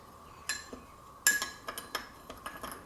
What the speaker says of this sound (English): mix it up, get it nice and evenly mixed